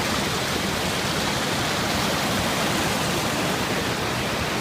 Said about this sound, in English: behind me there, you can see the beginnings of the Falls of Dochart